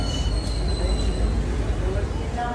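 A train rumbles close by at a crowded station with thin, sustained wheel squeals ringing above the low roar, steady throughout.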